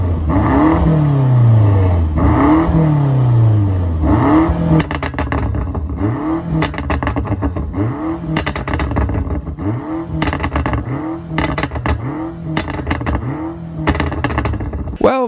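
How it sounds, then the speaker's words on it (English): A BMW M5 Competition engine revs loud and close, with a long climbing rev followed by a string of sharp, repeated throttle blips and crackles, and no talking. "Now it's time for the sound test with the BMW M5 Competition going first"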